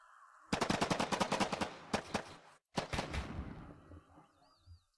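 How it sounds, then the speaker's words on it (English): Rapid bursts of video game machine-gun fire crackle loud and close in a tactical shooter, with a brief gap before more volleys and scattered single shots trailing off. "Gunshots out. Bullets are flying."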